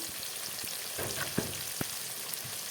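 Katla fish frying in hot oil in a pan produces a soft continuous sizzle broken by a few louder spits and pops.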